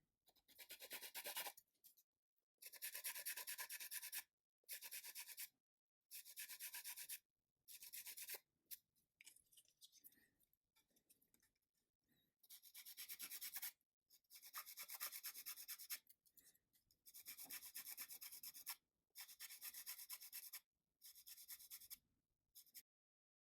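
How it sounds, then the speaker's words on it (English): Wet sanding with a sanding stick, levelling a leftover resin gate on a Forge World resin model part; soft, close rasping strokes come in repeated short bursts with brief pauses between them, alone without talk. "I'm just going to do a little bit of sanding there to level that off."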